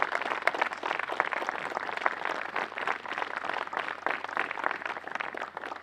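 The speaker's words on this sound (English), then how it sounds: "Please, a round of applause." A crowd's round of applause at an outdoor groundbreaking ceremony for a camp welcome center, dense continuous clapping at fairly strong level with a faint steady low hum underneath, no voices standing out.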